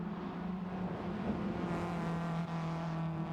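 Steady droning engine hum of race cars rolling together at a start in a dirt racing video game, constant and even without distinct passes.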